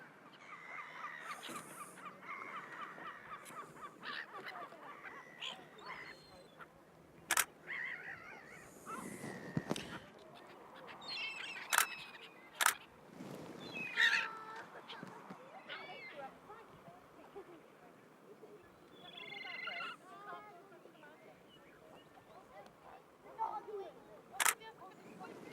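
A camera shutter fires a series of sharp, separate clicks at irregular intervals while photos are taken in shutter priority mode. Someone talks quietly throughout, and the clicks cut through clearly above his voice.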